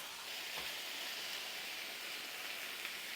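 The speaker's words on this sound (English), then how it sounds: "Washing my hands." Steady broadband hiss of water running from a kitchen tap while hands are washed, continuous and fairly even throughout with no voices.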